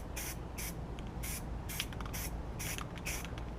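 Etching primer sprayed from an aerosol can onto the cylinder fins of a restored REO engine, a series of short hissing bursts in an uneven rhythm, close and clear, with no talking.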